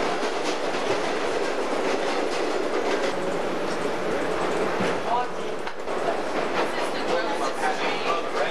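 A New York City subway train rumbles along toward Coney Island, with continuous rattling wheel and track noise and rhythmic clicks heard from inside the car.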